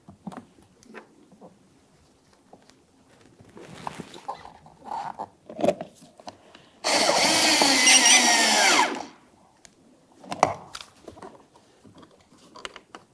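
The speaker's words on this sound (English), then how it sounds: "continue on with your 8mm headed bolt directly in the center." A power driver runs an 8mm bolt into the door of a 2006-2012 Ford Fusion during a window switch replacement, with one loud, steady whir of about two seconds between soft handling clicks and rustles.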